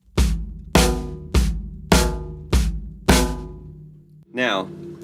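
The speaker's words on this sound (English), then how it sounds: "Then we have 2 and 4 on the snare." Acoustic drum kit groove with the bass drum on every beat and snare on two and four; six loud, evenly spaced hits sound close and alone, followed by a brief different trailing sound.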